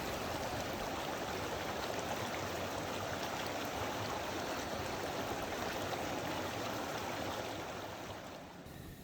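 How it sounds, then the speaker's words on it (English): A creek in Cheeseman Canyon, Pike National Forest, flows steadily, a continuous broadband rush and babble of water close by, fading slightly at the very end. "I just briefly took a video of this creek."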